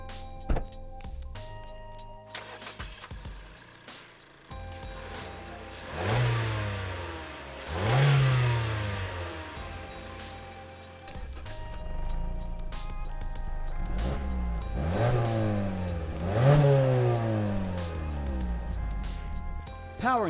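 A 2016 Mazda CX-3 Grand Touring AWD with a SKYACTIV-G 2-liter four-cylinder engine accelerating several times, each run climbing through the revs and shifting gears in repeated sweeping surges, heard from inside the cabin at moderate volume.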